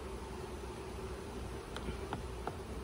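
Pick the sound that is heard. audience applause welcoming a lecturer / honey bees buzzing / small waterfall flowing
honey bees buzzing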